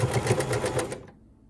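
A sewing machine stitches quilt squares together in a quick, even run of needle clatter for about a second, then stops and falls quiet.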